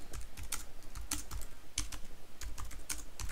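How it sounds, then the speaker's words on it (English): Rapid, uneven clicks of a computer keyboard being typed on during an online game of Town of Salem, fairly quiet and close, with no talk over the clatter. "I heard you typing."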